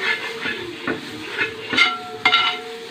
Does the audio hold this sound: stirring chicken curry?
yes